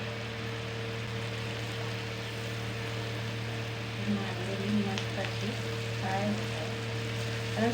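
Mandeli fish frying in hot oil on a low gas flame, a steady close sizzle with a constant low hum beneath and occasional louder crackles and spatters.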